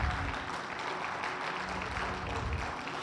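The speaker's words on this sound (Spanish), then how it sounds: "Denle un aplauso fuerte a Dios" A church congregation claps together in a soft, distant wash of applause, a dense, even patter that carries on briefly without pause.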